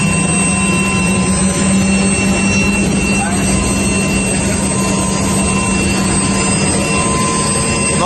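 A helicopter lifts off from Rio Branco in Acre, its steady loud rotor and turbine roar filling the cabin without a break, with a constant low drone underneath and voices heard over the engine noise.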